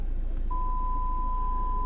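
The parking sensor of a 2016 BMW 218 sounds one continuous tone close to a fence, rising over a low engine hum inside the car after a short quiet start.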